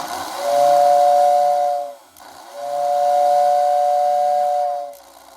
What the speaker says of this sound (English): the whistle actually does seem to work fine whenever it's in like neutral position